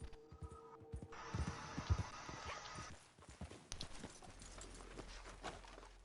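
Horse hooves in the video game Red Dead Redemption 2 Online clip-clop in a steady walking rhythm at close range, with a few louder, heavier steps partway through over a soft background hum.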